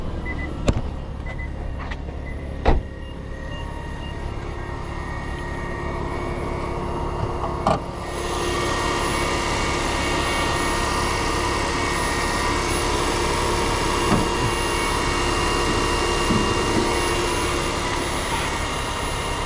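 A 2023 Nissan Kicks e-POWER hybrid's engine idles with a steady hum after a few clicks and clunks, then settles into a continuous even drone.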